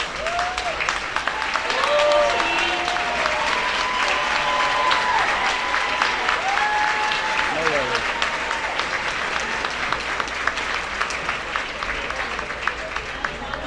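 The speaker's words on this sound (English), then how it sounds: "we can give you a round of applause as well" Sustained applause from an indoor crowd at the Fork Fight 2023 event, greeting the development team and committee, loud and steady throughout with some cheering and chatter mixed in.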